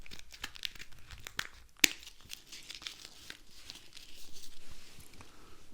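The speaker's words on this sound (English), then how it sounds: "we'll make a cut across the middle, and then we can then get it a little bit more easily." Paper being cut across the middle with scissors for a Jacob's ladder craft, soft faint snipping and crinkling with a single sharp snip, close and quiet, no talking.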